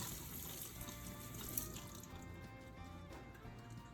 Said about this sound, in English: rinse them thoroughly under running water